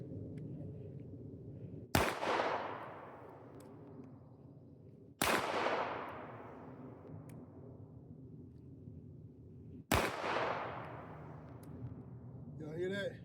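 Three sharp, loud gunshots about three seconds apart during trigger control practice, each ringing out in a long decaying echo, with soft trigger reset clicks between them and faint talk nearby.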